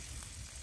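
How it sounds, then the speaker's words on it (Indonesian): Chicken sate maranggi brushed with sweet soy sauce and cooking oil sizzling on a hot grill, a brief, steady, quiet hiss and crackle with no voices. "Kemudian ini aku mau panggang satenya."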